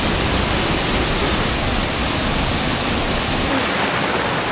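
A steady, dense roar of the Krok E Dok waterfall in Thailand fills the whole stretch, loud and constant, with no voices over it.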